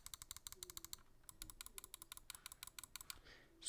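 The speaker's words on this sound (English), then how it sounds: "Side buttons." Side buttons on a Roccat Kone Pure Ultra mouse tapped rapidly in dense bursts of crisp, close plastic clicks, a brief pause in the middle, then more clicking, with no voice.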